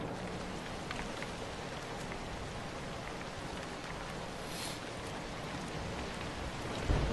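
Steady, even rain hisses and patters across a ZombiU game scene, with no voices and only a faint thump at the very end.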